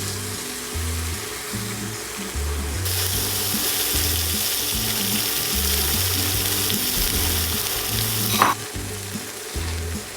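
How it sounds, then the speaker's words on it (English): Eggs frying in a pan with softened tomatoes, a steady loud sizzle that jumps up sharply partway through and holds, with a rhythmic low thumping underneath and a brief clink near the end. "we're gonna add in 2 eggs."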